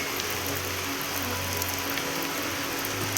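Rain falls steadily over the forest of the Mangalavanam bird sanctuary in Kochi, producing a dense, even patter with no voices.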